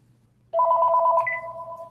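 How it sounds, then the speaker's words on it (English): A telephone rings indoors with a steady electronic double-tone trill that starts abruptly and holds, loud and close, with no talk over it. "Excuse me, I got to get the phone."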